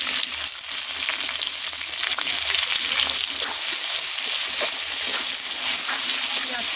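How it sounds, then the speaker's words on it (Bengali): Chopped onions frying in hot oil for a chicken curry, a steady, close sizzle that holds at an even level throughout with faint stirring underneath. "এবারে দেব পেঁয়াজ কুচানো"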